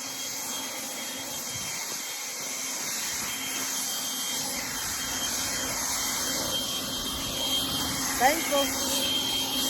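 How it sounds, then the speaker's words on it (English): A leaf blower runs outdoors in a garden, giving a continuous airy whine and rushing drone that holds steady throughout and swells slightly near the end. "Thankful for having a good blower."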